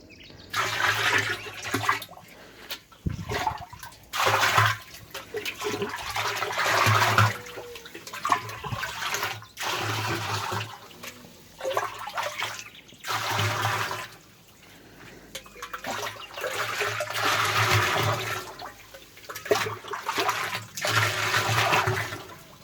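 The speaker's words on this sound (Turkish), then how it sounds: "şu anda bu hazırladığımız canlı bakterilerimizi bu gübre bidonumuza döküyoruz" A live bacteria solution is poured into a 220-litre fertilizer drum, a steady rushing, splashing flow of liquid that swells and eases over about twenty seconds, close by, with no voices.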